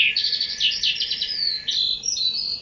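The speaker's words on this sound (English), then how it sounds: "a couple of the interesting things about birdsong is that, unlike speech, there tend to be a lot of gaps between the syllables" Recorded birdsong rings out as a clear run of high, rapid chirped syllables separated by tiny gaps. It ends in a few longer sweeping notes over faint background noise, with no one speaking.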